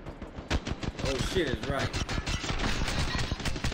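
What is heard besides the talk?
gunfire at a Mirage decoy in video game Apex Legends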